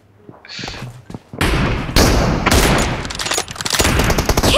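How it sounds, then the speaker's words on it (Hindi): Gunfire in a mobile team deathmatch shooter game with M24 rifles, heavy rapid bursts and thuds close and loud, building into sustained volleys after a quieter start. "भाई गोली चलाता हूं"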